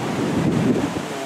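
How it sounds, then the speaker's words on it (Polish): High ocean surf crashes against rocks on a dangerous stretch of coast at Torndirrup National Park near Albany, Australia, a broad roaring wash of waves with heavy wind buffeting the microphone. "fale są bardzo wysokie i rozbijają się tutaj o te skały"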